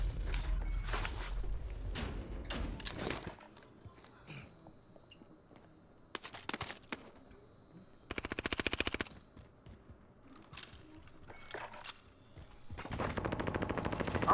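Automatic gunfire in Call of Duty Warzone on Rebirth Island, with a buffed FARA 83 rifle in use; repeated bursts of rapid shots, loud and close, broken by quieter stretches with footsteps.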